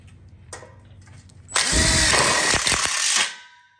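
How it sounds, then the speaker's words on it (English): A power drill drives a self-tapping low profile screw into an outdoor kitchen split bar, giving one loud whirring burst of about two seconds after a few faint clicks, then stopping abruptly. "we'll just lock it in like we did the other ones with a self-tapping low profile screw"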